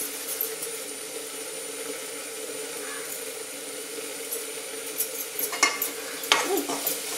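Masala with crushed kasuri methi is stirred in a pan over a soft, steady sizzle. Toward the end come a few sharper scrapes and clinks of the spoon against the metal.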